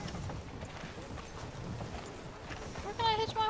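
Horse hooves clip-clop at a steady walking pace in Red Dead Redemption 2, moderately close over busy town ambience, with a brief tonal voice-like sound near the end.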